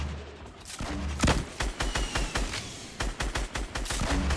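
Rapid bursts of gunfire in the Fortnite video game, a dense volley of sharp repeated shots in quick irregular clusters, loud and close, with no talk over them.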